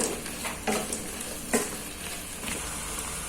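Fried potato pieces are stirred in a cooking pan with a little added water, giving a steady soft sizzle broken by a few distinct scraping stirs and clinks of the utensil against the pan.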